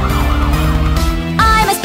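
Police car siren from a children's vehicle song wails loud and close in quick rising and falling sweeps, with music beneath and a brief tonal shift near the end.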